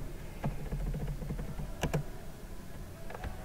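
Typing on a computer keyboard: faint, close key clicks in short irregular runs, with a couple of sharper keystrokes in between.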